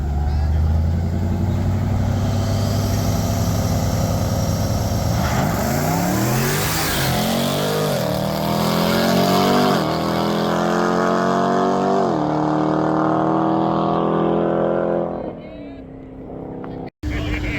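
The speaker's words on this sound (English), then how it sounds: "we got us a little fun grudge here, all-wheel drive versus all-wheel drive" All-wheel drive cars launch in a no-prep drag race grudge run at Darlington Dragway, loud engines roaring and revving up through rising gear pulls, then fading away before a sharp bang near the end; someone talks over it.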